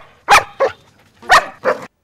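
A dog barks four times in two quick pairs, loud and close, with no talking.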